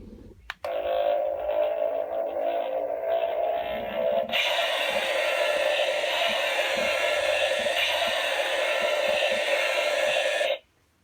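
A Jada Toys Godzilla remote-control toy fires its atomic heat ray, a loud, steady electronic buzzing tone that holds for about ten seconds and then cuts off abruptly.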